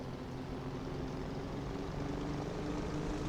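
Steady, loud drone of a propeller aircraft engine in War Thunder, a continuous throbbing roar held throughout without pause or talk.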